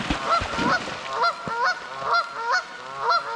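Loud, nearby honking calls from birds at a pond repeat in quick succession, several sharp goose-like honks in a row with brief gaps between them.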